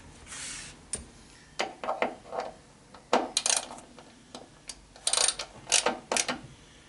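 Screw being tightened on a Jetovator water jetpack during assembly, with a series of short metallic ratcheting clicks and clacks in bursts, close and fairly loud, with no talk.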